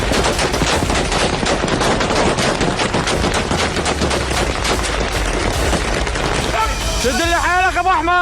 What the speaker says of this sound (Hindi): सीरिया की सिक्योरिटी फोर्स और असद समर्थक विद्रोहियों में आपस में गोलाबारी हो रही है